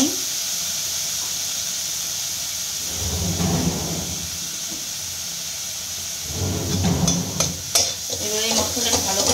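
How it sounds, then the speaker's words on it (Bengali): Turmeric and Kashmiri chili powder masala fries in a pan with a steady hissing sizzle, swelling in two bursts as it is stirred, ending in scraping clatter; no speech. "এবার এই মশলাটাকে ভালো করে ফ্রাই করবো।"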